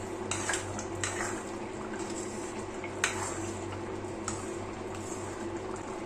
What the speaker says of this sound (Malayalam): എന്നിട്ടൊന്ന് ഇളക്കി നമ്മൾ കൊടുക്കാം